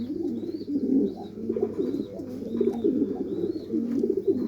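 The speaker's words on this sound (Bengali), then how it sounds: "মাদি কবুতরগুলা পুদিনা পাতা খাচ্ছে।" Female racing pigeons coo in soft, low, repeated rolling calls, close and continuous, with a few faint higher chirps above them.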